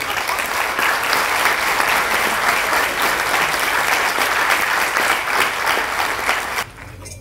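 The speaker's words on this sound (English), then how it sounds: "So we all owe you an applause, Dick" Sustained applause from a crowd, steady and dense clapping that fades out abruptly near the end.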